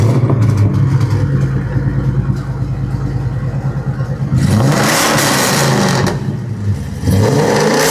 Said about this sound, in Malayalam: മെയിൻ എന്ന് പറയാനുള്ളതിന്റെ എക്സോസ്റ്റ് നോട്ടാണ്.